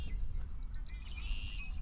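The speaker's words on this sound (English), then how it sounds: "You just hear the birds in the background." Faint bird chirps and a thin whistling call drift over a low outdoor rumble by a lake, sounding distant and quiet.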